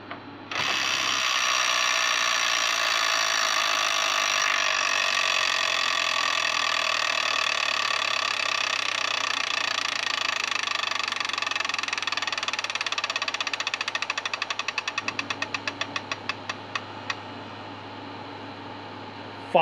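An electronic tabletop Wheel of Fortune game plays a sustained buzzing electronic tone while its wheel spins. Near the end a fast train of clicks slows and fades as the wheel comes to a stop.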